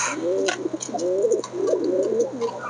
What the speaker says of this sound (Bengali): একদম সুস্থ সেবল কবুতর এটা